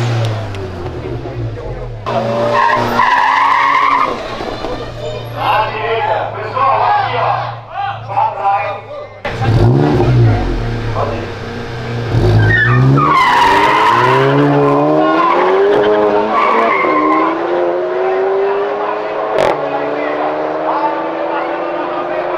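A Volkswagen Saveiro GTI at a street drag race revs hard and launches with loud, screeching tire skids, the engine roaring up close while a crowd shouts and people talk around it.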